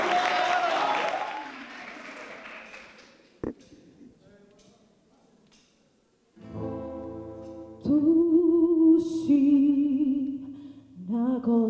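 Audience clapping at a school event fills the opening seconds, then fades into near quiet before sustained musical tones take over for the rest.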